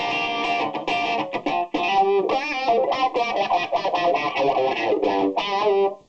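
Heavily distorted electric guitar played through an Ibanez distortion pedal in choppy bursts of chords and bent notes, loud and saturated with short gaps between phrases.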